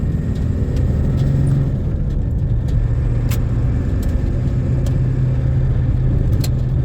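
A turbocharged truck with a 4-inch exhaust pulls away, its deep exhaust rumble rising steadily under acceleration with a gear change, heard continuously from inside the cab without talk.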